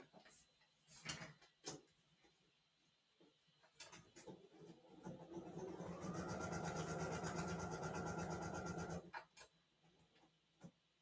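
A sewing machine stitches foundation paper piecing, running in one steady burst of rapid, evenly spaced needle strokes for about three seconds. Scattered handling clicks and taps come before and after it, close by, with no talking.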